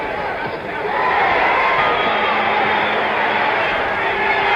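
Dense boxing-arena crowd at the Ali vs Lyle fight, a broad roar of many voices swelling and holding steady, loud and close, with no single voice standing out.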